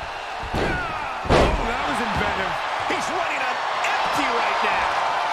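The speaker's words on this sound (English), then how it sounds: "Shot after shot, then slamming their face down." In the WWE 2K23 wrestling video game, a body slam lands with a single heavy thud during a Cody Rhodes versus Brock Lesnar match, set against constant crowd roar while a commentator talks throughout.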